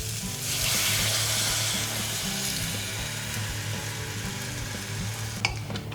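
Crushed natural tomato sizzles and bubbles in a deep pan of hot oil, a loud, steady frying hiss with some stirring scrapes and a few sharp pops near the end.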